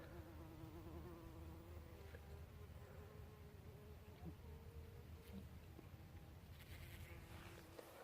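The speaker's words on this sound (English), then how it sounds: "There was just an absolute ton of bees. Oh, they're fighting in there. Fighting with a wasp, I think." Bees buzz steadily around flowering lettuces in a British Columbia garden, with a wasp among them, making a constant faint drone and occasional higher whines as insects fly near.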